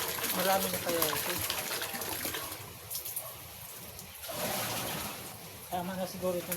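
Water gushes and splashes into a basin close by for washing clothes, continuing steadily while a person talks over it.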